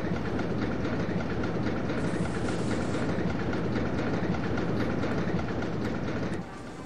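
A roller-coaster style train rolls along its track in the OpenRCT2 park-building game, a steady rumbling clatter with rhythmic clicks that drops abruptly near the end.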